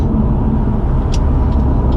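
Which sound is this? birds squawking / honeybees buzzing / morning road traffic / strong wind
morning road traffic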